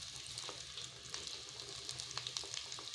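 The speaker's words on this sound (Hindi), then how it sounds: "ये तीन तीन ही डाल के हम अपने सारे समोसे तल लेंगे" Potato samosas deep-fry three at a time in hot oil, giving off a continuous soft sizzle. Small crackles and pops scatter through the bubbling, with no voices over it.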